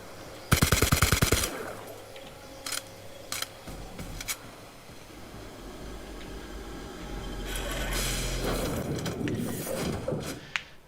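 Assault rifle gunfire in The Outer Worlds: a rapid burst of automatic shots up front, a few isolated single shots after, then a swelling rumble of action noise.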